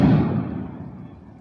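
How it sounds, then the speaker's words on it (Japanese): A fireworks burst booms outside a hotel room, one loud low thump heard from indoors that fades into a long rumbling decay. "姿は見えないのに、お部屋の中には花火の音だけが贅沢に鳴り響いています"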